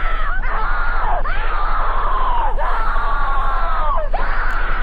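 Sustained loud screaming with wavering, falling pitch, repeated in long wails of several voices, part of a horror creepypasta story; the cries are continuous and close throughout.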